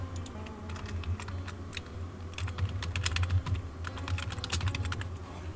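Steady, rapid clacking of a computer keyboard being typed on, close and continuous for several seconds over a low background hum.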